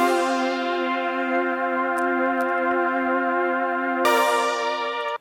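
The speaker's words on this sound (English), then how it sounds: "The first one is the rounded keys patch." A rounded keys patch from a free retro Serum preset pack plays sustained chords with a rich stack of warm harmonics. A new chord comes in near the end before the sound cuts off.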